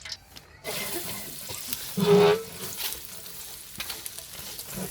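Garlic frying in hot oil in a pan for a ghee fish and garlic fry, a steady bubbling sizzle that swells briefly louder midway, with scraping stirs and no talking.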